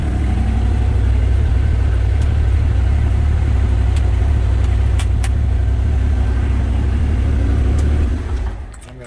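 A Bobcat small articulating loader sits idling with a steady, low engine rumble close by, running evenly and alone before easing down in the final second.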